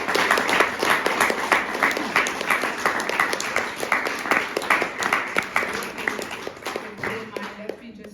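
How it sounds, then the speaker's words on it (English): An audience claps in sustained, dense applause at a talk with a UN Secretary-General candidate, steady and fairly loud for several seconds before tapering off near the end. "a huge round of applause"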